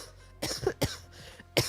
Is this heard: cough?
yes